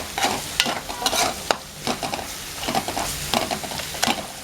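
Coriander and cumin seeds dry roast in a pan, stirred in repeated quick scraping strokes with a light crackle underneath, close and fairly loud, no voices.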